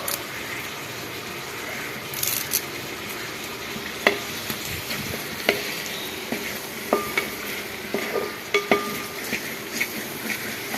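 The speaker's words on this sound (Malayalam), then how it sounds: "അടി പിടിക്കാതെ നന്നായിട്ട് ഇളക്കി കൊടുക്കണം." Chicken masala stirred in a hot pan, with soft continuous sizzling broken by a run of sharp spoon scrapes and clinks against the pan, close and clear.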